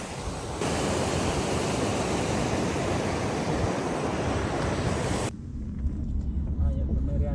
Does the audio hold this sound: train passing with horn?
no